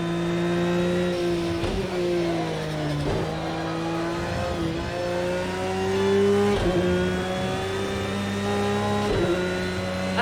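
A loud race car drives around the Knockhill circuit, its engine droning steadily with repeated rises and dips in pitch as it shifts through gears and brakes for corners, close and continuous.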